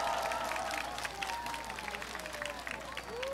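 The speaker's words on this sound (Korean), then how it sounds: "여러분, 다시 한번 큰 박수를 보내주시면 고맙겠습니다." An audience at an award ceremony for a family concert claps in sustained applause, a dense continuous patter of hands with a host talking over it.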